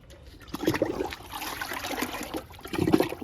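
Liquid fertiliser pours onto a potted fig plant in soft, close trickles and splashes, rising and falling in uneven bursts.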